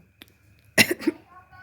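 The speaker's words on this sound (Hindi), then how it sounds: "मैंने जैसे चक्रा अलाइनमेंट बोला वैसे मेरे गले में खांसी आई" A single sharp cough bursts out, followed by a couple of smaller throaty catches, close to the mic after a quiet moment.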